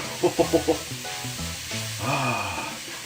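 Butternut squash curry stirred in a hot pan, opening with a few quick rhythmic scrapes, then settling into a continuous close sizzle with soft stirring.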